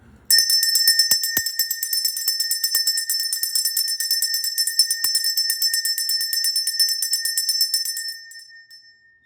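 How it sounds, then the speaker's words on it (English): A single bell is struck once and rings out loud and sustained, its bright tone holding steadily for several seconds before fading away. "Let's do the bell."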